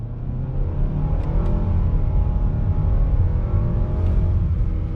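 A 2021 Nissan Rogue S compact SUV accelerates on throttle in Sport mode with manual shift selected, giving a steady, loud engine drone heard from inside the cabin throughout.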